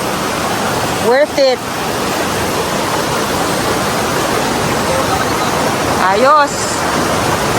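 Mother Falls waterfall in Dipaculao, Aurora, a loud constant broadband rush of water filling the whole scene, with brief spoken remarks breaking in twice.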